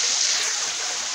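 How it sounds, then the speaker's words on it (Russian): Rushing water of the fourth waterfall in the Yauzlar gorge, surrounded by rock walls: a steady, dense hiss that fills the whole moment evenly, close and loud, with no voices. "И спадает водопад."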